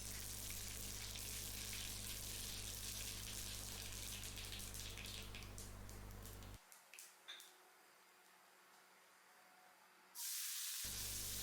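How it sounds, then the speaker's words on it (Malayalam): Mustard seeds in a few tablespoons of hot oil in a pan for a Kerala fish curry: steady, loud hissing crackle for about six seconds, then near-quiet with a few scattered pops, before a sudden loud burst at the end. "ഓയിൽ ചൂടാകുമ്പോൾ അതിലേക്ക് ഞാൻ 1 ടേബിൾ സ്പൂൺ കടുക് ഇട്ടിട്ടുണ്ട്."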